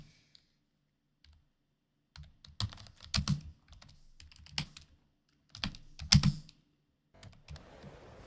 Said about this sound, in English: I forgot I can't use that set of my keyboard.